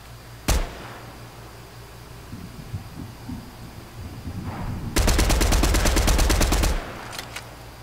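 Video game gunfire in Fortnite: a single sharp shot early, scattered faint pops, then a fast, loud automatic burst lasting nearly two seconds, followed by a couple of isolated shots.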